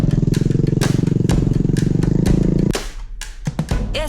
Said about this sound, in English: Back on the bikes, and we headed back.